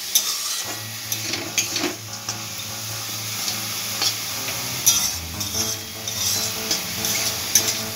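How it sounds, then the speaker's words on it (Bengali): Greens being fried in a pan with broken bori (dried lentil dumplings) and crushed peanuts, a steady close sizzle with repeated stirring scrapes and clinks of the spatula, no talk. "এরপর ভাজা ভাজা করে নিচ্ছি।"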